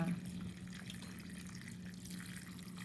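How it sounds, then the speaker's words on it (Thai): Water poured steadily into a pot of Thai red curry pork with pumpkin, a continuous close splashing and gurgling stream with a constant low tone throughout. "ใส่น้ำลงไปค่ะ"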